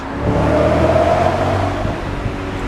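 A 2000 BMW M5 engine drones steadily and loud, revving to 6,000 RPM for a couple of seconds with a whining tone on top, then eases off slightly.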